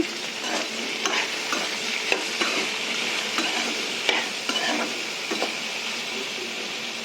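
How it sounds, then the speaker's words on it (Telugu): Kara chutney ingredients with tamarind and salt fry in a pan, giving a steady, moderately loud sizzle throughout. A spoon scrapes and stirs with light scattered clicks, and no voice is heard. "ఇవి బాగా ఫ్రై చేస్తూ ఉండాలి."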